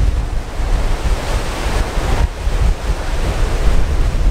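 Surf washing onto a stony, fossil-strewn beach in Aruba, a steady broadband roar with rolling swells and some wind buffeting the microphone, close and loud with no voices.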